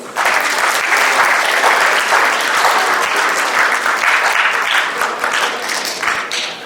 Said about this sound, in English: So let's give a round of applause for him as well